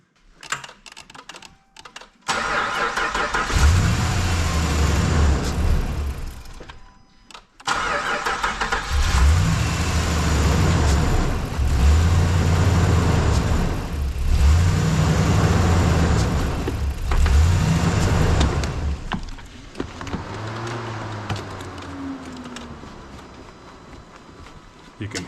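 A Dodge Ram truck engine cranks and catches, then runs loud and steady with rhythmic surges as the shifter area is wiggled; a voice speaks near the end over the idle.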